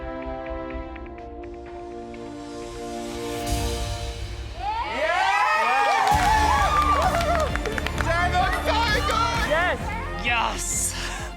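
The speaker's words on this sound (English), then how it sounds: "The gantry start cheering, I start cheering." Gantry audience cheering and clapping on a cooking competition set during a chocolate dessert challenge, rising from scattered voices into loud whoops and shouts, mixed with people talking nearby.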